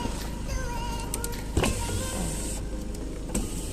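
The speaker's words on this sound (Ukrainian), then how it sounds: "Є наш електросклопідйомник. Давайте заодно перевіримо." Rear electric power window motor of a 2018 Skoda Octavia A7 whirs through several runs inside the cabin, with a clunk partway as the glass stops and restarts, close and clear.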